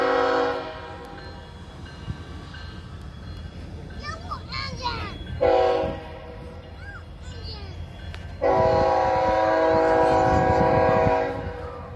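A train rolling along rails in a train park, with horn-like tonal blasts rising and falling over a steady rumble of wheels, loud bursts around the middle and end, with faint voices nearby.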